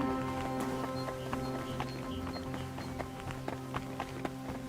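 Horse galloping in Kingdom Come: Deliverance 2, a steady run of hoof beats heard close over a continuous game background bed with scattered impacts.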